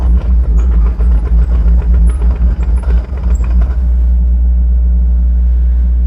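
A 2017 Doosan DX55-5K mini excavator travelling at high speed, a loud steady diesel drone with a deep rumble and clattering track noise that fades into a constant idle hum.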